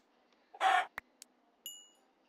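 A Minecraft chicken gives a short clucking squawk, followed by a couple of faint clicks and a brief high tone, all quiet and alone in an otherwise silent game scene.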